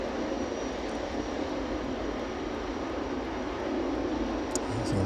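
A jet aircraft taxis off runway 27 onto the taxiway at East Midlands Airport, a steady, fairly faint engine roar and hiss heard from a distance without voices.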